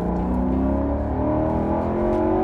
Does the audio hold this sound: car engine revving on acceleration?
yes